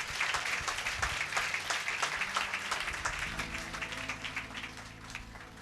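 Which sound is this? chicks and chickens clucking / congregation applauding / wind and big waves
congregation applauding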